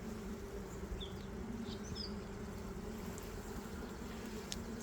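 Honey bees from a recently swarmed colony at a new apiary drone steadily and close by during a hive inspection, a continuous dense buzz with no talking.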